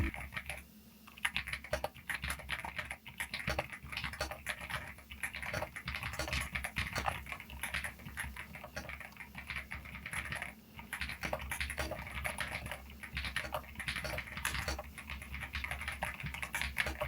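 Typing on an EpoMaker mechanical keyboard fitted with Holy Panda switches gives a rapid, continuous stream of soft, close keystroke clacks in an uneven rhythm, with no voices over it.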